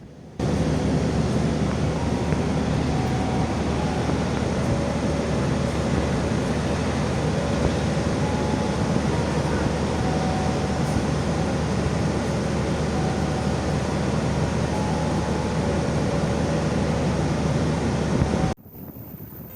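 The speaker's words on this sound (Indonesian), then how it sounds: "Kereta api Banyu Biru melaju dengan tenang, roda-rodanya berdentang teratur di atas rel besi yang memanjang jauh ke depan." The Banyu Biru passenger train runs between Semarang Tawang and Solo Balapan, giving a steady, loud, continuous rumbling roar with wind and rail noise. It holds unbroken for about eighteen seconds and then cuts off abruptly.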